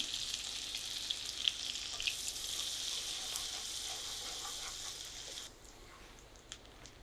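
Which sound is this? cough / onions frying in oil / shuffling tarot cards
onions frying in oil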